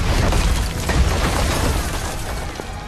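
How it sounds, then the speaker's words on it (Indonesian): In a film scene, explosives planted on a prison fence detonate and blow part of it open. A loud, dense blast rumbles and crackles for nearly three seconds before easing slightly. "saat bom itu meledak dan membuka sebagian pagar"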